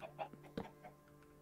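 Blocky game chickens in Minecraft clucking in a few short, separate bursts, quiet and close, with no talk over them.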